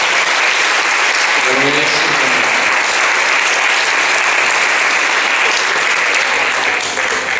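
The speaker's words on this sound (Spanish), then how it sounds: "Así que un aplauso a todas las personas que lo hacemos" Sustained, loud applause from a large audience at an academic symposium fills the hall continuously, a dense even roar of clapping with faint voices underneath.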